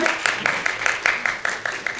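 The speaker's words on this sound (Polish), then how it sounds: "Ogromnie brawa" Applause from a convention audience for a cosplayer at BiforCon 2024 cosplay show, quick rhythmic clapping bursts in unison, fairly loud and close, with little talk.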